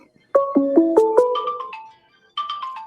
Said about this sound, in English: they got a phone call